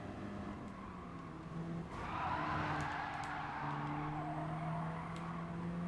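An Audi race car in Gran Turismo 7 drives through a corner, its engine tone rising and falling through gear changes with a brief tyre-scrub swell midway, quiet and without talk.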